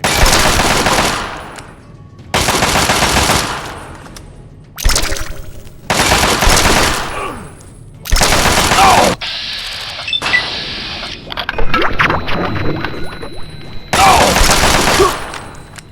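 Gunfire in the video game Fallout 3, set in the Capital Wasteland, comes as loud, sustained automatic bursts that each last a second or two. Short gaps separate the bursts, with quieter mechanical clatter in between.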